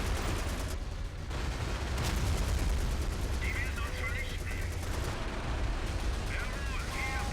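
A Panzer IV H in a video game fires high explosive rounds amid dense battle noise, with constant rumbling blasts and gunfire under scattered distant voices.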